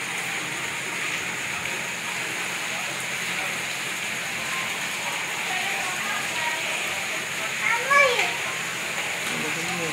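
A constant wash of heavy rain pouring down, with children's voices and chatter faintly mixed in and a brief louder call near the end.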